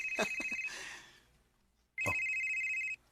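A mobile phone rings with an incoming call, a loud electronic ringtone in two bursts separated by a pause, heard up close with brief movement noises and no talking.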